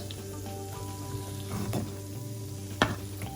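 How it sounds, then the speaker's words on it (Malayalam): Vettu cake frying in oil over a medium flame, a faint, steady bubbling sizzle close by with an occasional louder pop or clink. "മീഡിയം ഫ്ലെയിമിലിട്ടിട്ട് ഫ്രൈ ചെയ്തെടുക്കാം നമുക്ക്"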